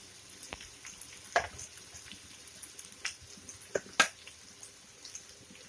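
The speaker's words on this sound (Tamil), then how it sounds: "தின் ஸ்லைஸாக கட் பண்ண வாழைக்காயை எண்ணெயில் நல்லா டீப் ஃப்ரை பண்ணி எடுத்துக்கலாம்" Thin slices of raw plantain deep fry in oil, with a soft, steady sizzle and occasional sharp pops and clicks as the slices are turned.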